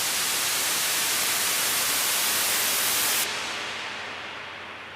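Synthesized white noise in a digital audio production session plays as a loud, steady hiss; partway through its brightness abruptly dulls, and the level then sinks gradually.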